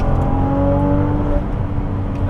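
A Ferrari 296 GTB hybrid accelerates hard, the engine note a loud, rising drone heard from inside the cabin, steady and close throughout.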